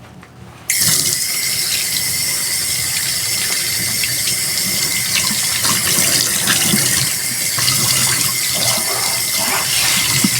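Meat being rinsed under a strong stream of tap water in a kitchen sink, heard as a loud, continuous gushing splash that starts abruptly and runs steadily close by, with no talking.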